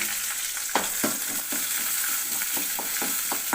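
Small onions sauté in a pan, a bright continuous sizzle with a spatula stirring and scraping them in quick repeated strokes, close and fairly loud, with no talking.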